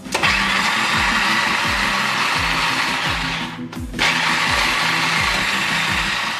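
A blender grinds cassava leaves for pundu loudly with a rhythmic chopping pulse, pausing briefly midway before resuming its steady roar.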